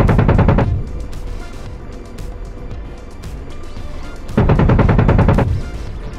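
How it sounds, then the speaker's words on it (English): Rapid bursts of automatic cannon fire from an AH-64D Apache gun in the DCS flight simulator, a loud sustained burst at the start and another about four seconds later, with a steady engine drone in between. "We're gonna use guns."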